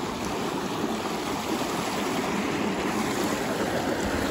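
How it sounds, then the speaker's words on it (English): A small New Jersey brook trout stream flows nearby, a constant broadband rushing and babbling that stays loud and even throughout with no voices. "I'm on this little brook here"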